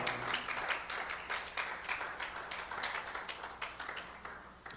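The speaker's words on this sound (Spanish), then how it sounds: "¿Tienen un aplauso para el Señor Jesús?" A church congregation claps for Jesus, a soft, fairly distant ripple of many hands applauding steadily for a few seconds with no talking.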